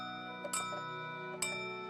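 A cartoon clock chimes at night in the children's show Ben and Holly's Little Kingdom, giving two bright, ringing strikes about a second apart over a steady tonal musical bed.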